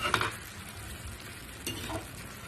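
Vegetables for Bengali-style doi begun, eggplant in a spiced yogurt sauce, are stirred in a pan after the lid comes off, with a soft continuous sizzle and a few light scrapes of the spoon against the pan, no talking.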